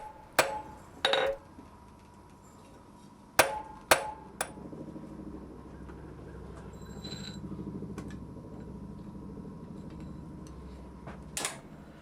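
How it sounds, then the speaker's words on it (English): Hammer striking a steel nut on an anvil while forging it flatter, a few sharp ringing metallic blows in small clusters with quiet gaps and a low background hum between. "forge the nut down until it's about half of its original thickness"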